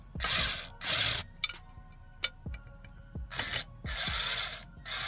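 A hand tool with a T15 bit turning a bolt on a car subwoofer: sharp ratcheting clicks and ticks at irregular intervals between broader rustling bursts, close and fairly quiet.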